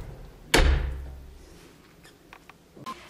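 A quiet apartment door fitted with Italian handle hardware closes with one soft thud that fades away, followed by a few faint clicks from the latch and handle.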